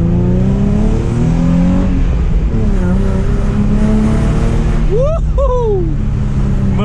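A Nissan 350Z on a stock exhaust revving in first gear, engine note climbing and falling in repeated smooth pulls, loud and close, with rising tonal sweeps near the end.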